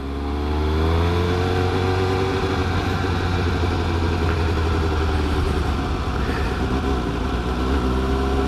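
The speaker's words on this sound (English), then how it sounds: "Today I'm out on my GSX S750." A 2018 Suzuki GSX-S750 motorcycle engine drones steadily and loudly while out on a ride, a continuous low hum with no pauses and no talk over it.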